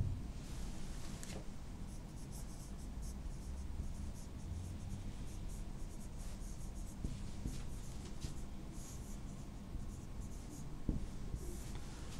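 A pen scratches steadily across paper while someone writes out chemistry notes on complex compounds. The faint, close strokes run continuously with small taps and pauses and no speech.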